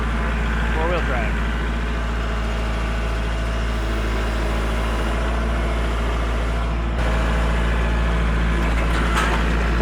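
A tractor engine runs at a steady, low, continuous rumble up close, with a faint voice speaking briefly over it.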